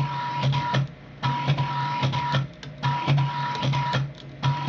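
A CNC coil winder lays wire onto a Rodin starship coil using 12 pins of a 24-pin setup, giving close, rhythmic mechanical whirring bursts separated by short pauses as the machine steps between pins.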